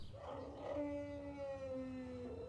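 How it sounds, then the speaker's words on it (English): Dog howl from the kennels in the Gabriel Knight 2 video game: a long, wavering, mournful howl that rises then slides down in pitch, holding steady for over two seconds against a dim ambient background, no talk. "Oh, that's a mangy doggy."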